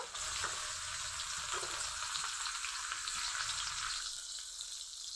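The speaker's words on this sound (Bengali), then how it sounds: "তেল গরম হয়ে গেছে, পেঁয়াজ কুচি দিয়ে দিব।" Chopped onion frying in hot oil in a wok, a steady bright sizzle that holds at an even loudness for the whole stretch, close up with no talk.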